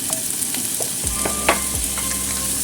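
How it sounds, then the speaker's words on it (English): Peppers and pineapple stir fried in hot oil in a wok, a loud steady sizzle with quick spatula scrapes and clanks on the pan close by. "Stir fry a little bit. Then add in pineapple."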